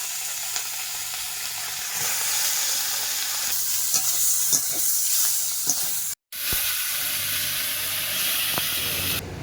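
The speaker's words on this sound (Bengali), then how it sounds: "এদিকে মাছগুলো মা ভালো করে ভাজা করে নিয়েছে" Fish frying steadily in a pan of hot oil, a continuous loud sizzle and hiss with occasional stirring clinks, briefly cut off partway through before resuming.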